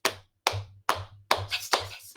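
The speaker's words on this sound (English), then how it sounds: "Can you tap your knees?" Hands tapping on knees during a Caribbean children's rhythm game, about seven sharp slaps in an uneven beat, close and clear with short gaps between them.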